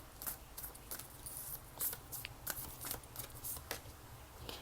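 Unicorn oracle cards shuffled close up in a quiet room, a run of soft papery riffles and flicks at an irregular pace, faint and with no talk.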